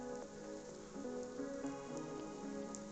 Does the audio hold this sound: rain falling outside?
yes